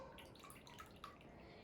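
Water drips and trickles from a squeezed sponge in a few soft, scattered droplets, faint and close, with no talking.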